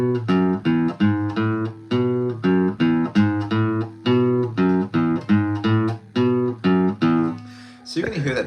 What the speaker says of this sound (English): In this one, the bass line sounds something like this.